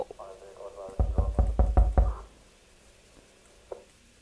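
Five or six heavy, evenly spaced knocks on a door in a horror game, loud and close, followed by a quiet ambient lull with one faint later thump.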